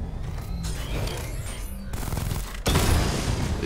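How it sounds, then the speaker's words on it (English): A chain gun firing in the Batman Arkham Knight video game: dense, continuous, loud rapid-fire bursts with rumbling booms, breaking briefly before resuming even harder. "The chain gun's not powerful enough."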